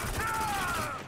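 Turret machine gun fire in the video game Spec Ops: The Line, a brief, loud, dense burst of rapid shots with a ringing metallic tone running under it.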